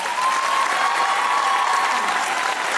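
Studio audience applauding steadily on a Pakistani TV comedy talk show, a dense, even wash of clapping sustained throughout with no talk over it.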